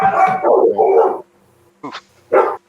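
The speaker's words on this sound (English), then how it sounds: "We're getting attacked by dogs." Dogs bark and yelp in a game, a long burst of barking followed by two short, loud barks after a brief pause.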